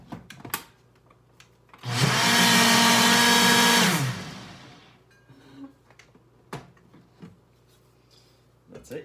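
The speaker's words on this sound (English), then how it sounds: "You want to use a quick speed blender, something that's going to help that kind of emulsify in there." A Ninja blender whirs loudly through a short burst of about two seconds, blending coffee, with quiet clicks and handling noises before and after.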